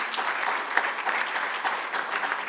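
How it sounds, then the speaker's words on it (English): Steady applause from a conference audience at a national space conference session, dense clapping held at an even level throughout without pauses. "Round of applause again."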